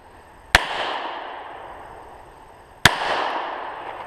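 Two sharp handgun shots crack during a shooting drill, spaced a couple of seconds apart, each loud and close with a short echoing decay into a quiet outdoor range.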